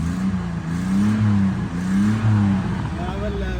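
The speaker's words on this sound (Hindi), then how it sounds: "अगर हम गाड़ी को रेस रूस दे के चेक करें तो ओके की रिपोर्ट है, इंजन क्लियर लग रहा है" A Honda K24 engine fitted with an HKS China exhaust revs in steady, drawn-out swells, with each rise and fall of pitch close by and loud and a low throaty drone underneath.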